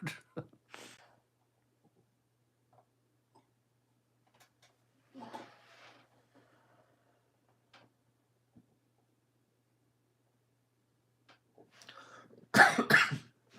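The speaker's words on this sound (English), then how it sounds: "Sorry, I don't know why I'm coughing." A few scattered coughs near the mic, one early, one in the middle and a louder burst at the end, with near silence between.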